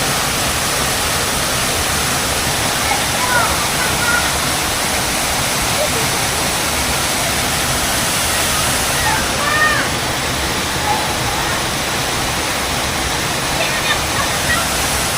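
River water flows in a loud, constant rushing wash close by, with faint small sounds now and then above the steady roar.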